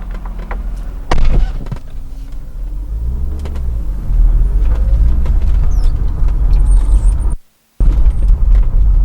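A BMW E36 M3 drives nearby with a loud, steady engine rumble and road noise, punctuated by a few knocks and a brief dropout near the end.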